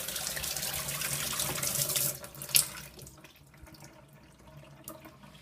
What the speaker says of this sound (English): So the water's working fine.